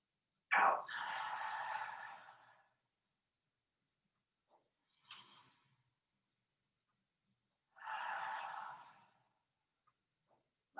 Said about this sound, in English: We'll end together with 3 slow, simple breaths.